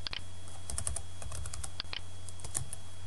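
Quick, close clicking of keys on a computer keyboard as a short search is typed, an irregular burst of light taps over a quiet background hum.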